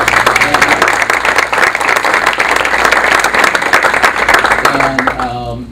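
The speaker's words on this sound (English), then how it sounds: "Can we give him a round of applause?" An audience gives a sustained round of applause for Sean Scarlato at a community gathering, loud, dense clapping running steadily throughout before it begins to thin out near the end.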